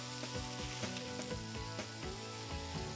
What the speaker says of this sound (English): move the albacore directly over the wood fire